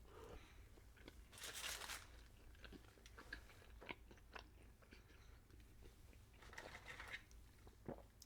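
Fries are crunched and chewed close to the microphone in a quiet setting, with crisp bites followed by soft, irregular munching and faint crackles.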